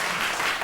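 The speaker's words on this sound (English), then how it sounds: "let's have the equal round of applause for a totally correct answer on that" Dense studio audience applause fills the whole moment, a steady wash of many hands clapping in a 1982 BBC television book quiz show.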